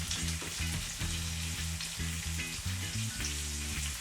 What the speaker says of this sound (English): I am using olive oil, extra virgin olive oil on the peppers and the onions